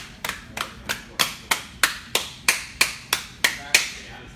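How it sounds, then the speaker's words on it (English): Gloved hands clap in a steady, even rhythm, about a dozen dull, padded claps close by with nothing else heard. "That's good glove tapping."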